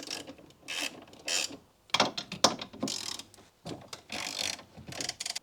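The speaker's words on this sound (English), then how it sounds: "get a socket on an extension on a ratchet and go through here behind the wiring either side and fully remove those 2 bolts" A socket ratchet on an extension works dashboard bolts loose on a Mazda MX5 Miata mk2, with bursts of rapid close clicking separated by short pauses.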